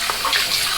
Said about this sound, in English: What I'm going to do is put some nice warm water in one of my bowls